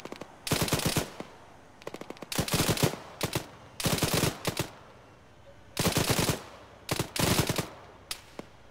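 Automatic weapon fire in a military shooter video game, sharp bursts of rapid shots repeated in clusters with short pauses between, close and loud with no voices.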